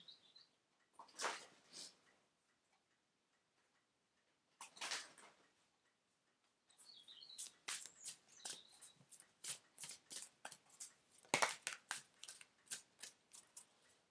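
Angel message cards being shuffled by hand: a couple of short riffling bursts separated by silence, then a longer run of rapid, crisp card flicks and slaps, close and fairly quiet, with no voices.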